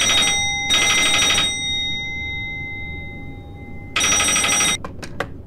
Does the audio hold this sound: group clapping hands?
no